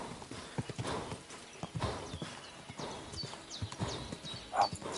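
Horse hooves clip-clopping in the video game Kingdom Come: Deliverance 2, a steady close rhythm of hoof strikes over a background of soft ambient noise, with a brief whinny-like tone near the end.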